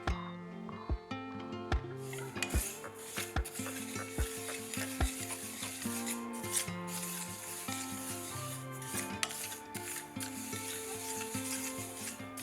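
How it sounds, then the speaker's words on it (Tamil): Ingredients dry roasting in a pan over medium heat, with continuous scraping and stirring of a spatula against the metal over a steady tonal hum, no talk. "இது அப்படியே இந்த மிதமான சூட்டிலேயே நம்ம வறுத்து எடுத்துக்கலாம்."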